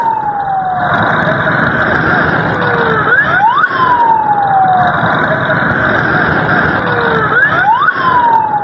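Loud wailing ambulance sirens sweep up and down over and over, several overlapping, over a steady rumble of traffic, as the ambulances pass close by.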